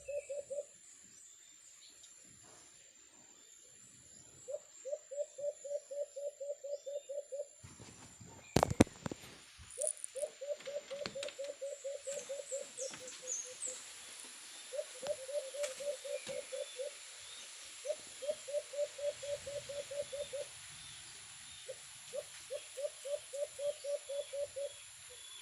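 Pigeons or doves coo in repeated rhythmic bursts during a bird hunt, fairly close, with a sharp crack or rustle partway through and faint background noise between calls.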